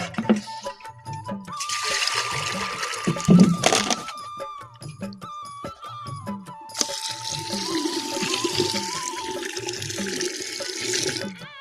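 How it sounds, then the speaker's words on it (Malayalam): Water pours and splashes steadily into cooked rice, with a louder gush midway and a continuous trickling flow later, amid faint rhythmic background knocking. "ഞാൻ കുറച്ച് ചോറിൽ വെള്ളം ഒഴിക്കട്ടെ കേട്ടോ."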